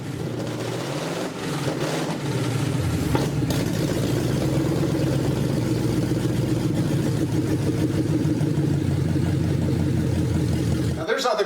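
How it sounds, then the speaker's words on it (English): A large engine of roughly 600 horsepower in a 1952 International truck running steadily and loud, a continuous low rumbling drone held for about eleven seconds before cutting off. "This engine makes 600 horsepower or thereabouts on the stock tune in this configuration."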